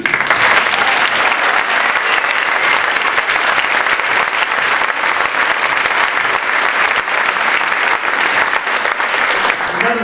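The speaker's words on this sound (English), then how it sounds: "Let's give a round of applause to the students." Sustained, dense applause from a large audience at a general assembly, honoring students, steady and loud throughout without letting up.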